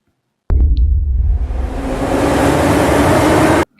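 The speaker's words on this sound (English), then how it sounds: "So there's a little ambiance of train taking off." Train pulling away as an ambience effect: a sudden loud rumbling onset that settles into a broad, steady roar, then cuts off abruptly.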